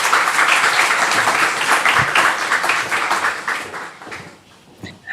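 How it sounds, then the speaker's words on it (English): Audience at a design and architecture festival applauding warmly for several seconds, a thick patter that thins and fades near the end, followed by a few scattered claps. "A big round of applause to say hello."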